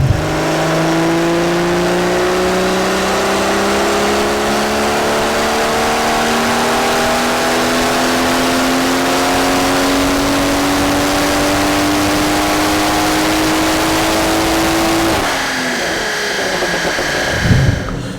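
A BMW M140i fitted with an NVM520R hybrid turbo and shielded intake on a dyno, engine droning and climbing steadily in pitch through a long full-throttle pull for about fifteen seconds, then abruptly lifting off with a whooshing settle.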